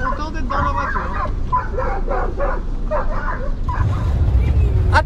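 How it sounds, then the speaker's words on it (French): Dogs bark and yip in a rapid, excited series as they chase a passing camper van on a road in Albania, close by and loud, with engine rumble beneath and voices talking over them. "Attaqué par des chiens."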